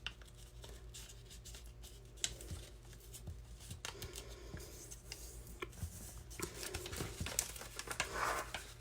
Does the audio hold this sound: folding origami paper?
yes